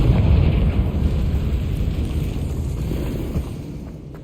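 A Confringo blasting spell goes off in Hogwarts Legacy, delivering a heavy, booming explosion that rumbles loudly at first and then slowly fades into a low roll.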